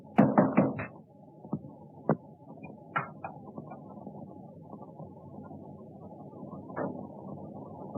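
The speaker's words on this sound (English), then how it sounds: "I heard a knock at the door." Several sharp knocks rap at a door, a quick cluster up front followed by scattered single raps over a quiet room tone, fairly close and with no voices.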